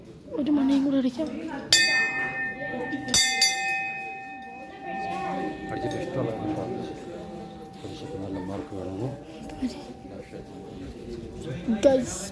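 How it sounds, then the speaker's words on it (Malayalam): Temple bell in Mysore struck twice in quick succession, near and loud, each hit leaving a long ringing hum that fades slowly under continuous chatter from people nearby. "ഒരു മണിയും കൂടെ അടിക്കാം."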